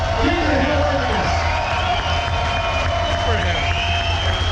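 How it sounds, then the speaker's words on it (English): A crowd at a burnout contest cheers and whoops, a dense roar of voices over a constant low engine drone, loud and sustained throughout. "Give a round of applause for Steven so we can judge his Keep the hill worthiness."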